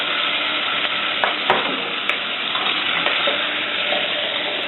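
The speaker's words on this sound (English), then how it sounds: "It's important to fry the spices off properly" Spices and cloves fry steadily in a pan for butter chicken, giving a loud, continuous close-up sizzle with a few faint clicks of stirring and no voices.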